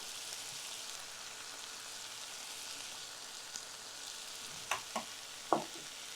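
Ingredients sauté gently in a pan over a low flame, making a soft, faint, steady sizzle. A few sharp spatula taps sound near the end.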